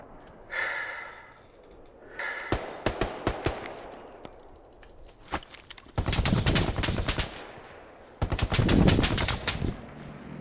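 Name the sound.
machine gun fire in the video game Hell Let Loose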